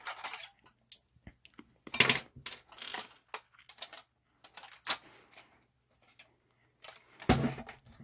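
An aftermarket car radio head unit clatters and knocks as it is pulled out and dropped during removal, a string of sharp, close plastic-and-metal clunks with short quiet gaps, some louder impacts standing out.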